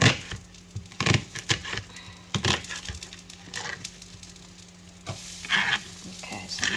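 An onion being chopped on a chopping board with a knife, irregular close knocks and thuds of the blade striking the board, bunched into quick clusters with brief pauses between, no voices.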